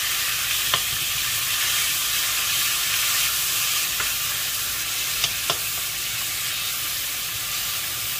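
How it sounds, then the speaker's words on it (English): Pork belly sautéing in chili oil in a pan, a steady close hiss of sizzling fat with a few sharp pops and clicks, no talking. "we're going to start sauteing our pork belly"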